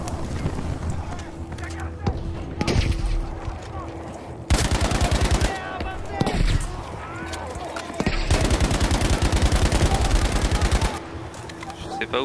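Shotgun blasts and automatic gunfire from the Battlefield V campaign crack out in loud, dense bursts at close range. A player's voice talks over the shooting.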